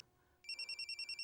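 A phone starts ringing after a short quiet moment, sounding a rapid, regular electronic trill of bright pulses that is clear and close, with no voices over it.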